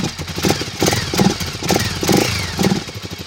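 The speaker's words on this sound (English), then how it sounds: "I can't believe it's idling." A long-neglected Honda 400EX ATV engine idles close by, with a rough, loping rhythm of regular low chugging pulses and steady exhaust thrumming throughout.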